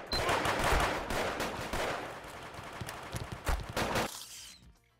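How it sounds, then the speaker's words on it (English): Rapid bursts of weapon fire from the shooter game GunZ crackle continuously at close range, dense and overlapping before stopping abruptly near the end. "They fire really quickly, but they don't do a lot of damage."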